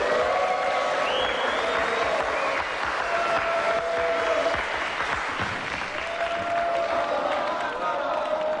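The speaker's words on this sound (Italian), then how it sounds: "Un applauso, prego" An audience of schoolteachers applauds steadily for several seconds, the clapping blended with crowd murmur and voices talking over it throughout.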